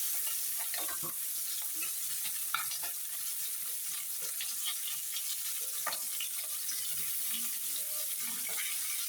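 Chopped onions frying together with koi fish in a pan for a Bengali curry, a continuous hissing sizzle with repeated clicks and scrapes of stirring, fairly close and steady, no talking.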